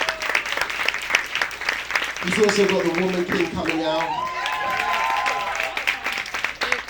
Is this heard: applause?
yes